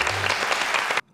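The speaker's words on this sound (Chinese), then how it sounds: "掌声鼓励一下" A studio audience on the Taiwanese quiz show 全民星攻略 bursts into brisk, close applause for about a second before it cuts off abruptly into silence.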